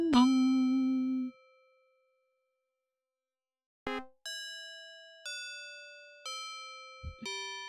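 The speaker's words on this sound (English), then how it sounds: "Weird little honk in the middle of the bell sequence there." A clock bell chiming in the video game The Colonel's Bequest: a long ringing tone, a pause, then a quick odd honk followed by a series of clear, evenly spaced electronic chimes.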